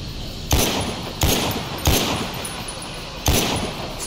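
Gunfire in The Walking Dead Survival Instinct video game: four sharp, loud shots at irregular intervals, each with a short ringing tail, over a steady background hum.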